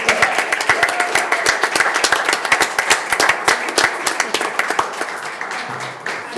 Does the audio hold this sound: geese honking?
no